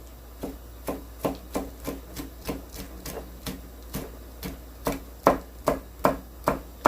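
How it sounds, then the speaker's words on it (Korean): A knife slices open cheongyang chili peppers in quick, even strokes: about fifteen crisp, close taps in a steady rhythm, heard alone without speech. "이제 청양고추, 청양고추도 딱 배를 가르는 거예요. 싹 갈라서"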